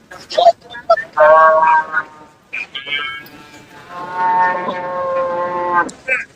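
Large cattle at a cattle market in Chinapuram low loudly and close by in two drawn-out moos, with brief shorter calls and noises around them.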